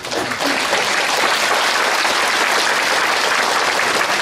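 A large audience claps steadily and loudly throughout at an inauguration ceremony for a county governor in Uiryeong, South Korea, the dense applause holding even from start to finish.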